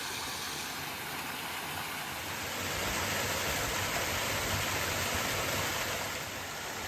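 Steady broadband rushing of a waterfall on a stream in the Peak District fills the scene, growing slightly louder midway and staying constant, with no voices.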